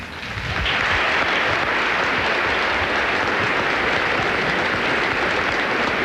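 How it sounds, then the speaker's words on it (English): A tennis tournament crowd in Cincinnati starts clapping after a quiet moment and keeps up a dense, even wall of applause. "I think we all should applaud Paul Flory"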